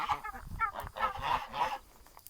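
A rooster and a hen run along the outside of a garden fence, giving a few clucking, honking calls in short bursts at moderate distance, with no talking over them.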